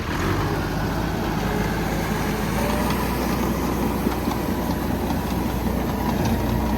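A Massey Ferguson 385 Deluxe tractor pulls a rotavator through a field, its engine and the churning implement making a loud, steady, unbroken drone with no voices.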